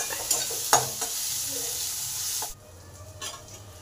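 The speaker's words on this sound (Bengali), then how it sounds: "পেঁয়াজটাকে ভালো করে ভেজে নেব" Chopped onions sprinkled with salt fry in a pan for a ridge gourd and masoor dal tarka, with a steady close sizzle and sharp scraping stirs that grow quieter after a few seconds.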